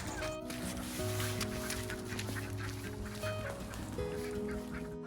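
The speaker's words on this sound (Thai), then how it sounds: "น้องเป็ดส่งเสียง โวยวายหนักมาก" Ducks in a coop squawk and honk loudly and continuously, many birds calling over each other close by in a noisy, crowded chorus.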